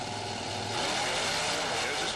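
Bigfoot monster truck with a fiberglass body and a 1,500 horsepower big Ford engine on a single racing run, a loud, steady engine roar that swells slightly partway through with no talk.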